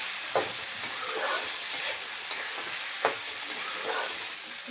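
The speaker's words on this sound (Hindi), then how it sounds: "इसको भी हम मटर के दाने को थोड़ा समय भूनेंगे, जो कच्चा है वो हो जाए" Green peas roast in a pan with a steady soft sizzle and a faint hiss, broken by occasional scrape and stir clicks.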